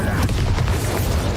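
A Bombarda blasting spell explodes in Hogwarts Legacy, a short, dull, rumbling boom that fills the moment with low, muffled energy before quickly fading.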